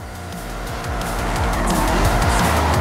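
A car drifts in the racing game Forza Horizon 5, its engine roaring loud and close as the tires squeal in a long continuous skid that grows steadily more intense, with no voices.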